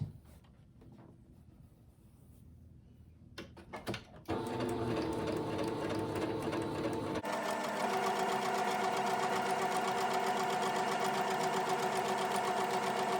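A sewing machine stitches T-shirt fabric: a quiet, hesitant start with short bursts, then steady continuous running from about four seconds on that grows louder and denser toward the end, with no voices.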